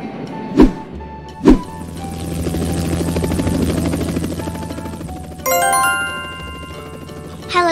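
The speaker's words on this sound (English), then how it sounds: "Helicopter." A helicopter flies with a steady whirring rotor chop that holds for several seconds, framed by two sharp chime-like hits near the start and a bright jingling tone near the end, loud and clear with no talking.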